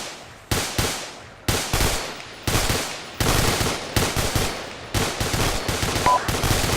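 Suppressive machine gun fire in a military game comes as loud, close bursts of rapid shots separated by brief pauses, repeating steadily throughout with no voices.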